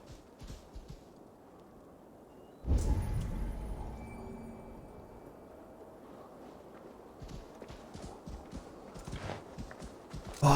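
A ridden horse in a video game clip-clops with a steady run of faint hoofbeats, with a sudden louder impact near the start and soft ambient noise around it.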